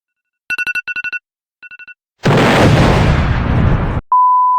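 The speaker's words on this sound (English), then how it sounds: "I hate this alarm." A Roblox game alarm plays repeated rapid beeping bursts, followed by a loud explosive roar and then a single steady tone, all close and loud with no talking.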